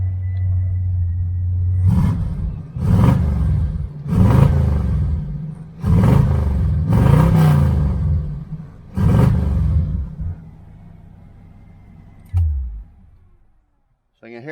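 Engine of a 1978 El Camino SS with a dual exhaust and X-pipe, revved repeatedly in about six deep rumbling bursts over a steady idle, close and loud, then settling back to idle before shutting off.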